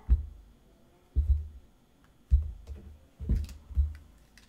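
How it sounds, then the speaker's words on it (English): Tarot cards being cut and set down on a table, giving five separate soft thumps with light papery clicks, spaced about a second apart, close and fairly quiet with no talking. "we're going to cut the cards now"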